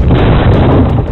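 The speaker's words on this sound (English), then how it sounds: "The resulting impact smashes the windshield to pieces" A vehicle slams into a windshield in traffic, a dense, loud crash of impact and shattering glass that stays sustained and close for over a second with no talk.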